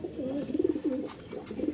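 Giribaz and Bashiraj pigeons at a Mirpur-1 pigeon seller's coo in a soft, rolling series of throaty calls, close and steady, with no talk over them.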